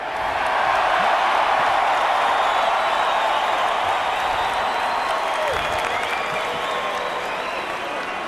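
A large arena crowd at a UFC fight applauds and cheers in a steady, dense roar that stays loud and unbroken for the whole stretch, with no clear voice standing out over it.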